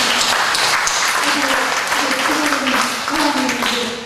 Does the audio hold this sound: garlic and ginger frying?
no